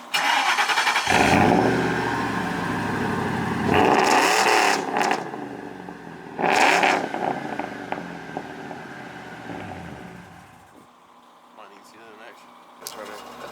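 Boosted truck engine revving loudly nearby in repeated surges, rising to sharp peaks around four and seven seconds, then settling to a lower idle before a final swell, with no talk over it.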